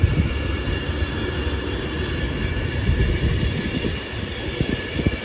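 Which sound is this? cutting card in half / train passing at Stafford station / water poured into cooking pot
train passing at Stafford station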